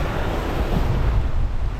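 Sailing on open water: a loud, continuous rush of wind buffeting the microphone mixed with surging waves and hull wash, steady throughout with no voices.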